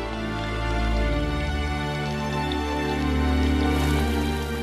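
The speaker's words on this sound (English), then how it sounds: "Winter rains." Winter rain falls steadily over the Namaqualand desert, a continuous close patter that holds at an even level throughout with no voices.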